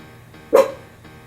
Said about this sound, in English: So my dogs are in the background. I'm sorry if they start barking like maniacs.